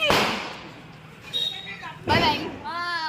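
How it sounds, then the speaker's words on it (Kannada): Two sharp firecracker bangs go off a couple of seconds apart during Deepavali celebrations, with people talking and calling out around them. "ಪಟಾಕಿ"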